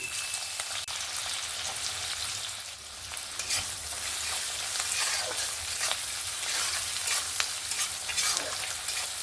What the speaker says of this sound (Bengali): পেঁয়াজটাকে সুন্দরভাবে লাল লাল করে একদম ভেজে নেব